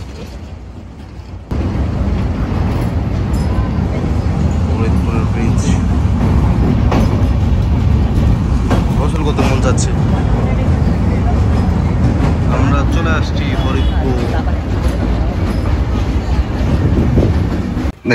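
Madhumati Express with LHB coaches rolling slowly over a bridge near Faridpur in rain, a steady loud rumble and rattle of wheels and carriages running continuously, with voices faintly mixed in.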